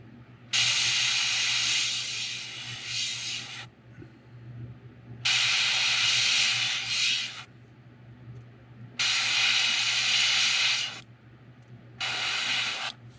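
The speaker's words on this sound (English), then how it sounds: "I like to fade that, overspray that backside just a little bit." An airbrush or spray gun hisses in long steady bursts while painting a fishing lure, four sustained sprays of a few seconds each separated by short quiet gaps, close and loud over a low hum.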